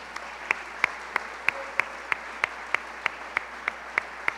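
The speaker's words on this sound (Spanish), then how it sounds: "Denle una ofrenda de palmas al Señor." Congregation in a church service clapping along in a steady, evenly spaced rhythm, each clap sharp and clear over a continuous hiss of background noise, with no voices heard.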